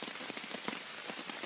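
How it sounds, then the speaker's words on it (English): Steady rain falls through woodland around a campsite hammock and tarp, a dense even patter with scattered louder drops tapping nearby surfaces, moderately loud and continuous with no talking. "it's raining out."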